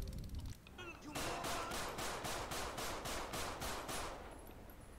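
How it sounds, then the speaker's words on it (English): A rapid burst of about ten evenly spaced gunshots rings out in GTA V during a rainy-day city police patrol. The shots are loud and sharp and are followed by a fading echo. "Shots fired, shots fired."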